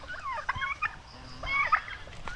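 A group of domestic turkeys on a Philippine farmyard gobbles in two clustered bursts, rattling calls fairly close over steady low background noise.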